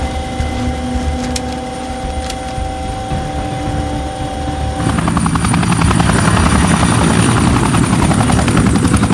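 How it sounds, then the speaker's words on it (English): A Chinook helicopter flies near RAF Aldergrove with a steady, close thudding rotor roar and engine whine, which swells louder and fuller about halfway through. "After a series of short flights, the Chinook returns to RAF Aldergrove."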